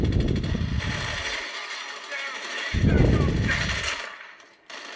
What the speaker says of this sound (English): I'm slow with this machine gun